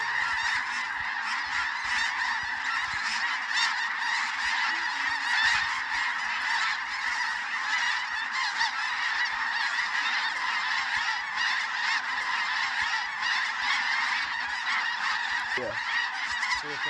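A large flock of snow geese honks continuously and loudly during a North Dakota snow goose hunt, dense overlapping calls filling the air without pause.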